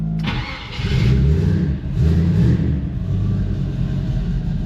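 A car engine cranks and catches, then revs up twice in strong surges before dropping back to a steady idle, loud and close.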